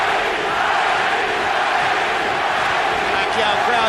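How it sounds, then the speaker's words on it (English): A packed arena crowd roars and chants at the Pacquiao vs Morales boxing rematch, a dense, unbroken wall of voices. "Pacquiao crowd chanting, Manny, Manny, Manny."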